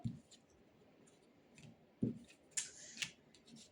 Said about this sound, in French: j'ai une carte qui tombe